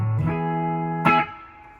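A sustained electric guitar tone rings through a Surfybear Compact Deluxe reverb with the line boost engaged, followed by a brighter struck chord that decays away.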